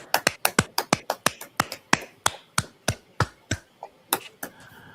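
A small group claps together in a loose rhythm, around two dozen sharp, close claps in quick succession with slight irregularity, and no voices over them.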